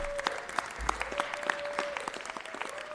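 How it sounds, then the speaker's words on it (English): An audience at a city council meeting breaks into sustained applause, many hands clapping in a dense, even patter that carries through the whole stretch with no voices on top. "Why don't we give him a round of applause?"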